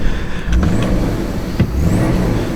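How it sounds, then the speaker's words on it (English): An Audi A6 C5 Allroad engine with an exhaust leak idles and revs nearby, showing a steady low rumble with a couple of brief rising revs and faint ticking. "there's a exhaust leak somewhere."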